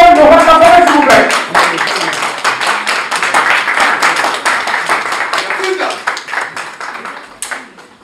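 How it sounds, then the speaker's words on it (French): An audience at a press event applauds to welcome Werrason. The clapping is loud and close and gradually thins out into scattered claps, with a voice talking over the start. "On va tous accueillir sur un tonnerre d'applaudissements Monsieur Werason de Rwanda, s'il vous plaît."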